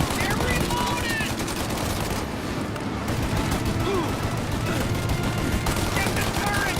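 A turret fires in the video game Mafia: Definitive Edition, with dense rapid bursts of gunfire in a loud continuous barrage and scattered shots under shouted game dialogue.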